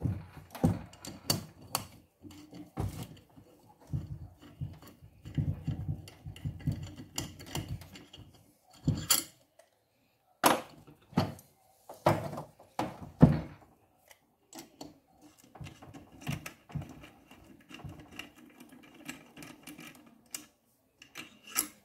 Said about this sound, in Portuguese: Deixa eu retirar esses três parafusos.